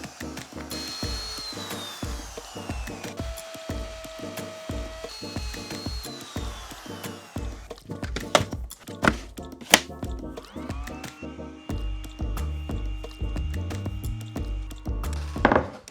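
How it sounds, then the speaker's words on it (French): A wood router cuts a large hole in a wooden cabinet panel for a homemade kitchen, a close, steady whine broken by repeated bursts and knocks as the bit works through the wood, with no talk. "il faut que je le fasse à la défonceuse"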